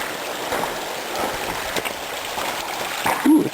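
A mountain stream in Icehouse Canyon flows steadily with broadband rushing water, heard close and continuous, with a slight swell near the end.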